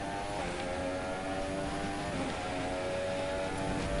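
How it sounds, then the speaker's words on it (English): Steady droning engine and rotor hum of a helicopter following a racing car in the F1 2017 game, continuous and fairly loud with a constant tonal whine and no voices. "Is the helicopter following me?"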